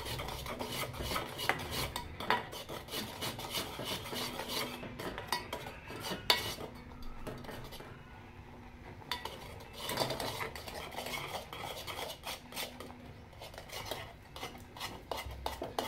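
A spoon stirs wheat flour into boiling water, making repeated close, rasping scrapes and rubs against the vessel in an uneven rhythm, with no one talking.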